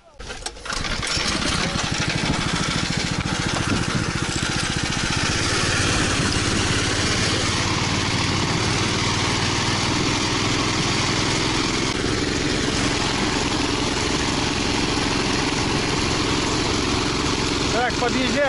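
A small motor vehicle hauls a loaded sled carrying a stove across ice, its engine droning loud and steady at close range after a brief rough start.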